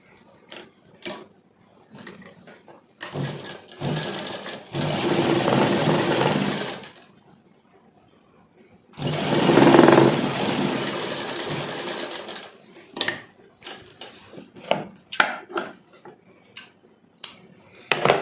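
A sewing machine stitches the seam along one leg of cloth pants or palazzos, running in two steady mechanical bursts of whirring, clattering needle action. Light clicks and fabric handling fill the quieter moments between bursts.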